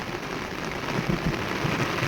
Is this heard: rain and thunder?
yes